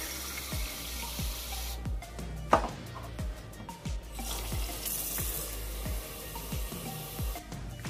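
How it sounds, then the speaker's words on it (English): A kitchen faucet runs water into a glass, a steady splashing rush with a rising fill tone and a few clinks and knocks, continuous and fairly close with no talking. "I'm gonna fill up this with my kitchen faucet"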